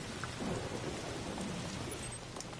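Rain and rumbling thunder in the video game Death Stranding 2, a steady wash of rainfall with low thunder rolling underneath, continuous and fairly loud with no talking.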